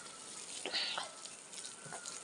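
Water runs from a tap at a home in a mountain village, a steady, faint hiss and rush with a few brief splashy surges, heard alone without talk.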